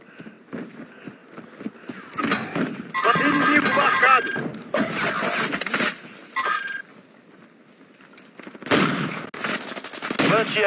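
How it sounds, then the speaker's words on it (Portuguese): Bursts of automatic gunfire from a military shooter video game crackle in loud clustered volleys, some rapid and sustained, separated by brief quieter gaps. "Estão atirando em mim!"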